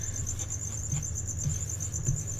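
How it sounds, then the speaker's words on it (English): Crickets chirp in the background as a quiet, steady, high-pitched trill, pulsing evenly with no voices present. "Do you mean crickets? Because there are those in the background."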